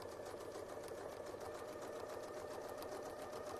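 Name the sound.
sewing machine stitching quilt block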